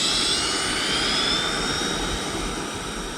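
A Freewing F-14 Tomcat twin 80mm electric ducted-fan RC jet roars at half throttle during takeoff, giving a steady, loud whine and rush that fades slightly toward the end.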